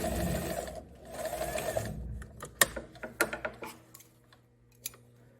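A sewing machine runs in two steady bursts while edge stitching along the pocket bag side of a wide-leg pant, followed by scattered clicks and handling taps from fabric and tools close by.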